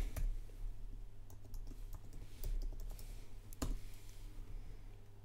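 Someone types a password on a computer keyboard in a quiet room. A handful of soft, irregular keystrokes click close by over faint background hum, with no voices.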